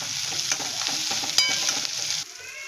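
Mashed tomato, garlic and eggplant sauté in a pan with a steady sizzle, punctuated by scraping stirs of a spatula; the frying noise drops off abruptly near the end, leaving a faint hiss.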